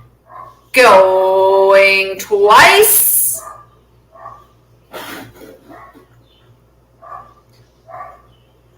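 A small dog barks and yaps through a live online book auction, a loud burst of several sharp barks early on, then fainter intermittent yips while a person keeps talking.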